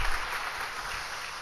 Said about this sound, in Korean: 우리 교사들 전체를 향해서 박수 한번.